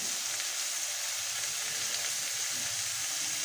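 Tomatoes dropped into a hot pan of oil give a steady, dense sizzle, a close and continuous frying hiss with no voices over it.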